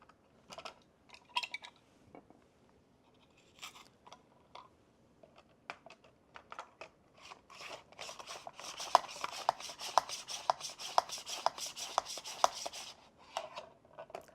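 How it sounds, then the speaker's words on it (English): An onion sliced on a simple kitchen slicer at its second setting, giving a run of quick, evenly spaced crisp clicks and rasps that grow denser and louder through the middle, close by with no talk. "let's slice an onion. We're going to do it on the second setting"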